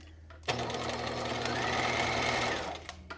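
A sewing machine running a regular straight stitch along fabric darts, a close, steady mechanical whir that starts abruptly, holds for a few seconds, then stops.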